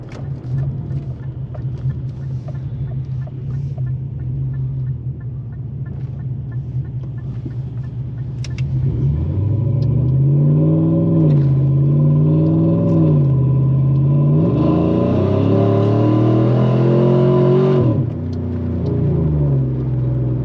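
A 2011 Chevrolet Silverado with a choppy tune, gears and a locker idles with a lumpy, loping rumble, then revs several times with rising and falling engine pitch, loud and close.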